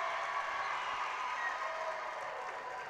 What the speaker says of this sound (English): With a nice round of applause from the fans still in attendance